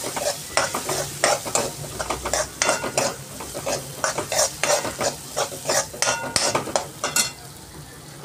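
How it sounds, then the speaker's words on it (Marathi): Moong dal fries in oil tempering on a low gas flame, giving a steady crackle and sizzle with rhythmic clacks and scrapes as a spoon repeatedly stirs the pan. "तर मी ही मूग डाळ टाकून घेते. तर ही मूग डाळ टाकली आहे. ती परतून घेते."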